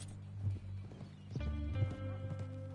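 Horse hooves clop in a few scattered steps in Red Dead Redemption II over a steady low hum and tonal game music, with a brief whinny-like burst midway.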